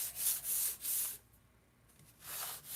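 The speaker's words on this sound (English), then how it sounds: "I'm just sanding the rocks off the back of it. This is 80 grit." Coarse 80 grit sandpaper rubs hard against the back of a bathtub piece, scuffing rocks off in three quick strokes, a short quiet pause, then another close, loud pass.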